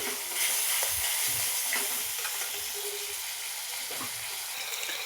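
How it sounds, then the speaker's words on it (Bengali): Spice mix sizzling and frying in white oil over fried onions for a home-style rohu fish curry, with steady loud crackle and repeated scraping stirs of a spoon in the pan, no voices. "এই যে মশলাটা কষা হচ্ছে, এভাবে ভালো করে কষে নেবে।"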